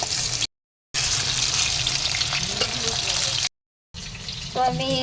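Nigella seeds sizzle and crackle in a generous amount of hot oil, a steady loud frying hiss broken by two short cuts, with a brief voice near the end.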